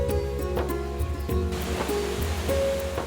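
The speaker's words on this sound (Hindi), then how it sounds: "वो देखो झरना।" A waterfall in a garden setting rushes with a broad, continuous wash of falling water, heard alongside a low steady hum and some intermittent tonal sounds.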